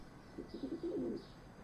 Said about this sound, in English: Oh no, bird.